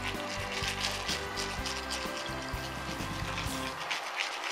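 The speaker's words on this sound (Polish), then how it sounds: "I dolewamy bulion wołowy" Beef broth poured into a sauce in a home kitchen, a soft continuous liquid trickle and bubbling with gentle splashes, close but quiet, no talk.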